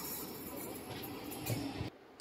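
Rumble of a moving train carriage with faint metallic clinks, steady and low, ending abruptly.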